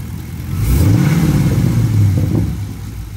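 A 5th gen Camaro SS V8 fitted with a K&N cold air intake gets a loud, close blip of the throttle, rising into a deep rumbling rev that holds briefly before settling back.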